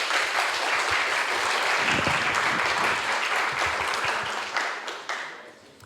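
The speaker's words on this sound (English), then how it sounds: "big round of applause for Virides" Audience at a student team competition in Prague gives a round of applause, many hands clapping in a thick steady burst that gradually fades out over several seconds.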